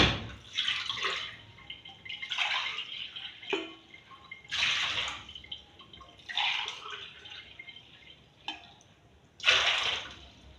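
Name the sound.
water being poured into a pot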